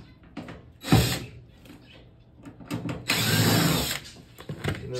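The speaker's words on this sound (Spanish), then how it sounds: "Tiene dos tornillos y lo sacamos completamente." Screws are driven out of the panel of an LG front-load washing machine, with short whirring bursts from a power driver broken up by clicks, rattles and gaps, all close up and loud.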